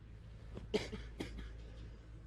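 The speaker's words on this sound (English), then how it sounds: "I'm sick. Coughing a little bit." A few soft coughs from a sick person sound at a distance over a low steady hum, spaced unevenly across a short quiet moment.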